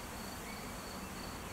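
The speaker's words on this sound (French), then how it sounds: "t'as plein d'abeilles entre toi et la grille" Many bees buzzing near a grille, a steady dense insect drone that fills the short stretch alone, fairly faint and continuous.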